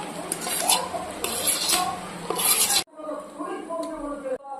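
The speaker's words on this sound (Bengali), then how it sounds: "আগে থেকে করে রাখা আলু সেদ্ধটা এর মধ্যে মিশিয়ে দেব" Boiled potato being stirred and mashed into a vegetable chop filling in a pan, with repeated scraping and clinking of a utensil against the metal, loud and close, ending in softer stirring.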